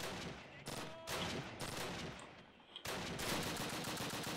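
Gunfire in the Call of Duty video game, loud rapid automatic bursts filling the clip with brief gaps between volleys, dense and close.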